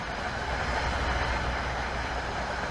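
Steady rumbling of an Amtrak ACS-64 electric locomotive train rolling past in snow in the game Train Sim World 2, a continuous broadband roar with low mechanical hum and no voices.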